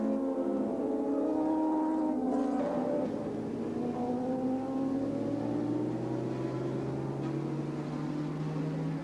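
Superbike motorcycles racing at Willow Springs International Raceway in 1985, a sustained whine of engines shifting and sweeping in pitch as the bikes pass, heard at a distance and fairly faint throughout.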